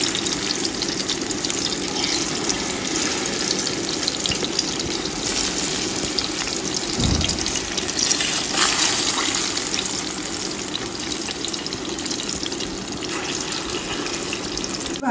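Vegetables sizzle and crackle steadily in hot palm oil in a shallow pan, a dense, continuous frying hiss that stays loud and close throughout with no talking.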